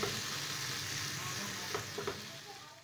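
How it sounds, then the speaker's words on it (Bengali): Turmeric-spiced masala and tomato fry in a pan for paneer bhurji, with a steady sizzle and a few soft stirring scrapes near the end. "ভালো করে মশলার সঙ্গে টমেটোটাকে কষিয়ে নেব।"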